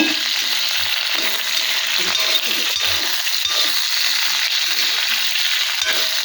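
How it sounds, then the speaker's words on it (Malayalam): Tomato chutney mixture sautéing in hot oil in a pan: a continuous bright sizzle with intermittent scraping and stirring knocks from a utensil, close and steady, with a few faint clinks and no talking. "എല്ലാം കൂടെ നമുക്കൊന്ന് വരട്ടിയെടുക്കാം."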